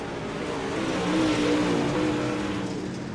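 MSDS Modified race cars roaring around the speedway at Limaland during a heat race, a steady, loud blend of engines holding a sustained drone with no voices.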